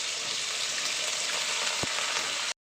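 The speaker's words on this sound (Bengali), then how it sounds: "এবার আলুগুলোকে একটু ভেজে নিচ্ছি, সরু করে কেটে নিয়েছি" Thinly cut potatoes fry in a pan, giving a steady close sizzle that runs unbroken with one brief thump partway through, then stops abruptly.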